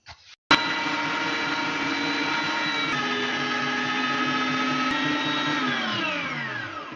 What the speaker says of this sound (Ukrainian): тільки зараз м'ясо поріжу на малі куски і буду пропускати через м'ясорубку